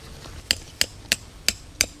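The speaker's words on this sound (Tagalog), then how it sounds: "Gusto mo rin magmartilyo?" Five sharp metallic hammer strikes on tent stakes at a campsite in a steady rhythm, close by, each ringing briefly before the next blow.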